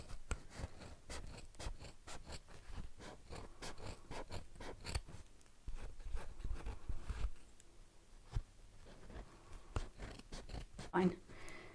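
A good pair of scissors trims rough edges off a molded Fosshape headpiece: a quick, irregular series of crisp snips and rustling cuts, close and fairly quiet, with occasional pauses and handling noise.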